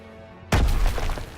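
A grenade blast in Call of Duty WW2 bursts suddenly after a quiet moment, a loud deep boom followed by a rumbling, crackling tail that fades slowly.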